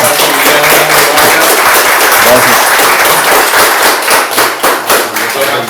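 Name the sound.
applause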